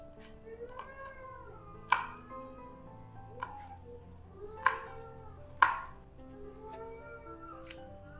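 A few sharp knife knocks on a cutting board as green chillies and wild kakora are chopped, spaced irregularly, over a faint humming background with some tonal wavering sounds.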